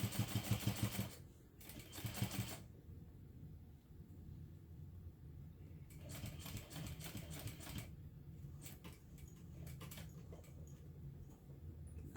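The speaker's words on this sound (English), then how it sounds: "always back stitch at the start and stop of your sewing lines" A sewing machine back stitching fabric gives short rapid bursts of stitching, a few quick runs near the start and again later, over a low steady motor hum, quiet and close.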